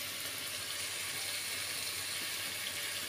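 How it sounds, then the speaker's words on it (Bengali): Water boiling in a covered pot for cooking koi fish, a soft, steady bubbling hiss with no breaks, fairly faint and even from start to finish. "এই যে ফুটে গেছে, দেখো জলটা ফুটে গেছে"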